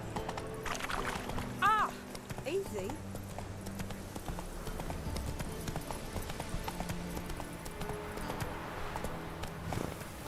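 Roach, the horse in The Witcher 3, clip-clopping along at a steady hoof rhythm under game music and ambience, with a brief neigh early on and a voice speaking over it.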